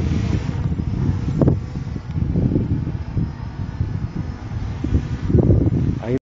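Strong wind buffets the microphone outdoors in steady gusting roars, loud and close, with voices talking in between.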